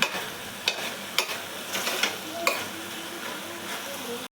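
Tamarind stirred into Malabar spinach in a pan, with a soft continuous sizzle and several sharp spoon clicks against the pan, close and fairly quiet.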